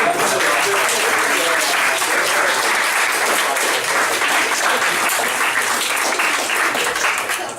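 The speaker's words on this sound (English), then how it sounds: "Oh, thank you for applauding." Audience applause at a comedy club, dense sustained clapping from a crowd that fills the room at full strength, tapering slightly at the very end.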